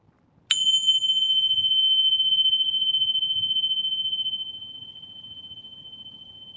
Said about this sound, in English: I'm going to play the chime again